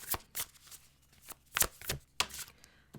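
Tarot cards shuffled by hand before a card is pulled, a close, brisk riffle of repeated papery slaps and rustles in uneven bursts, with no talking.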